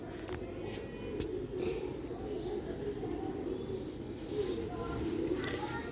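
Soft, low coos from Prince Batere pigeons repeat steadily in the background with a faint wash of ambient noise and occasional distant chirps.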